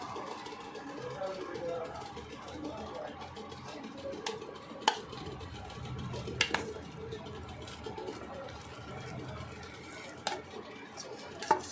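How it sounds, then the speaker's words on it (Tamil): A spoon stirs ground amla gooseberry into a thick jam mixture in a pot, soft scraping broken by sharp metallic clinks against the rim, with a voice faintly in the background. "பின்பு நன்கு அரைத்த நெல்லிக்கனியை இதில் போட்டு கலக்க வேண்டும்."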